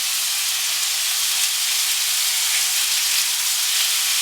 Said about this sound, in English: It should make a nice sizzling sound.